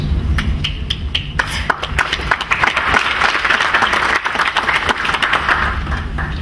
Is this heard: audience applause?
yes